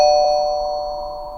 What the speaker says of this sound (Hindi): दरवाजे की घंटी बजाई